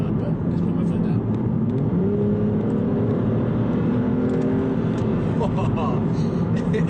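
An Aston Martin Virage engine hums and builds as the car accelerates on the road, a steady interior drone with rising tones under a person talking.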